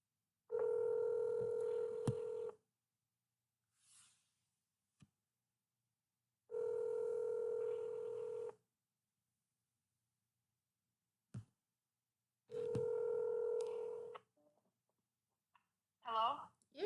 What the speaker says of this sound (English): in a moment I'm going to dial her up